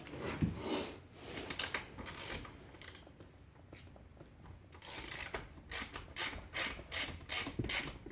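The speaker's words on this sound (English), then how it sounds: "Have to get your other adjuster loose on this side." Loosening the rear axle adjuster on a Honda 50 motorcycle produces scattered scraping, rubbing and ratcheting metallic clicks, which turn into a quicker rhythmic series of rasping strokes in the second half.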